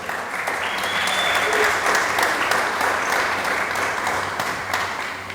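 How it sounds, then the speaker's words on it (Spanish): A church congregation claps together during a Spanish-language sermon, producing steady, full applause that holds at an even volume from start to finish. "Dele palmas al Señor"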